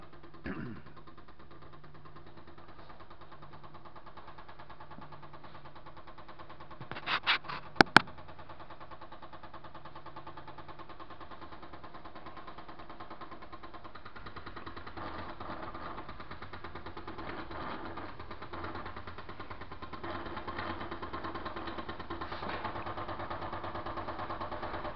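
A small shop-built steam engine runs slowly with a faint, steady mechanical chuffing and hum throughout, broken by a couple of brief sharp knocks partway through, with no talk.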